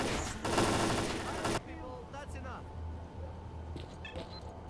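A mounted machine gun in STALKER: Clear Sky fires one sustained, dense burst of rapid shots lasting about a second, followed by quieter game ambience, scattered clicks and someone talking.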